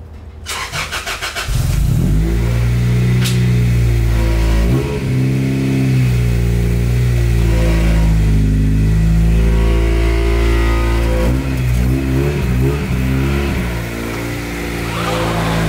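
A Honda Del Sol's engine idles, then revs repeatedly in loud, close bursts, dropping back between pulls.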